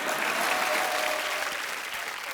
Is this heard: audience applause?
yes